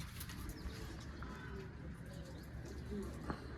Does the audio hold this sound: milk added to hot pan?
no